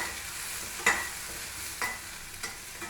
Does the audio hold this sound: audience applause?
no